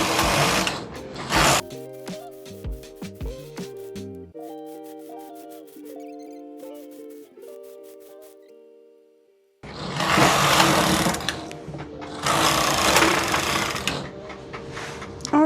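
A Brother KH588 standard-gauge knitting machine knits wool. Its carriage makes loud, sweeping mechanical passes at the start and end, and quieter clicking and tonal mechanism sounds fill the middle.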